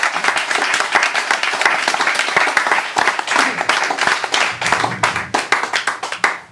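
Sustained audience applause and clapping after a poetry reading, dense and steady throughout, fairly close, with a faint voice or two mixed in.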